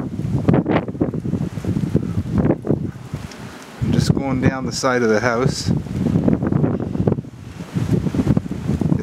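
Strong wind gusts ahead of Hurricane Leslie rush and rustle through trees beside a house in the early morning, a blustery roar that runs under someone talking close to the microphone.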